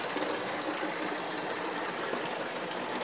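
Water pours steadily from a mountain spring spout, a close, constant splashing and trickling rush with no voices over it.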